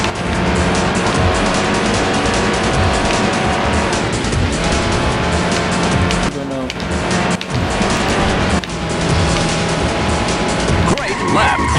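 A race car in Need for Speed: High Stakes on PC roars loudly and continuously at speed, with tire squeals and skids layered in. The engine drops out briefly about two-thirds through, then surges back.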